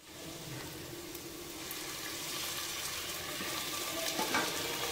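Steady, bright sizzle of ginger and garlic frying in a hot pan, continuous and fairly close, with a faint clink near the end.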